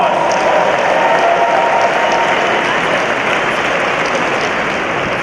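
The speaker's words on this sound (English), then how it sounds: "Give them a round of applause." A crowd at an election victory speech for the New York City mayor claps loudly and continuously, a dense, even roar of applause with no break.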